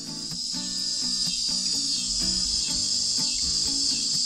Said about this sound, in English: I heard a cicada singing outside